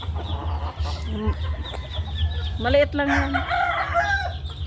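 Small bantam chickens, a hen and a rooster, cluck and crow close by in a backyard, with several short calls and a longer crowing phrase. A person talks briefly in the foreground.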